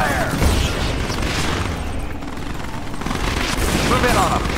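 An APC fires its gun in a real-time strategy video game, with bursts of rapid gunfire and booms layered over a dense, continuous roar of battle and machinery, loud and close throughout.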